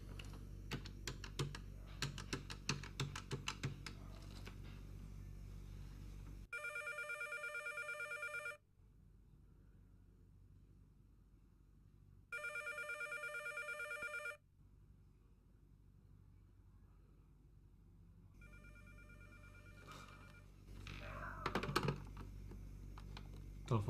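Long-distance telephone call to Surabaya going unanswered: keys tapped while dialing, then two long ringback tones separated by silence, then more tapping, with no talk.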